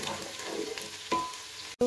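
Scalded garlic fries in lard or oil for a Bihor-style lettuce soup, a steady close sizzle with occasional scrape of constant stirring, briefly cutting out near the end before a short tone.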